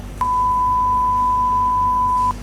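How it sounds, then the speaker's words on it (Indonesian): A single censorship bleep of the kind used on television broadcasts, a pure steady tone lasting about two seconds over low background hum, with no voices. "Adik-adik pernah nonton di sebuah tayangan televisi dan itu ada bagian yang disensor?"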